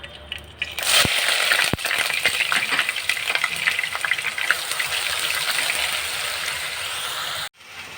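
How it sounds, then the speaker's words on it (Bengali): Onion paste drops into hot mustard oil in a pan while cooking a hilsa fish dish. A loud, close sizzle bursts in at once and keeps up a steady crackling fry, then cuts off abruptly near the end. "এবার পেঁয়াজ বাটাটা দিয়ে দেবো এই তেলে।"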